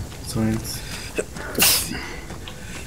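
One sharp, close sneeze bursts out midway through, set among a gamer's voice chat while playing Arma 3, with brief talk before it.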